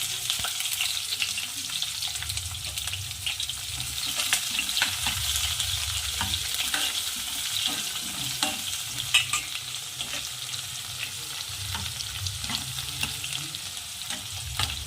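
Chopped onion frying in a pan for matar pulao, a steady close sizzle and hiss with a continuous rhythm of spoon stirring and scraping throughout, no voices.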